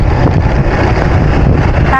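Wind roars steadily across an open-air microphone during a sunny bike ride on the Marinduque loop, a dense continuous buffeting rumble that stays loud for the whole stretch with no talk.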